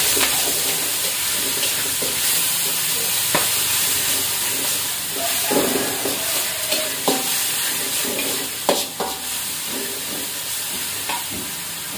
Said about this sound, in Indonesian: Sekarang goreng bumbu ini.